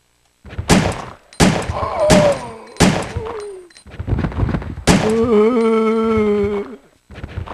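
Handgun shots in Resident Evil 3: Nemesis strike an enemy, five sharp, loud reports spaced about a second apart, each followed by groaning zombie vocal sounds, with a long moan after the last shot.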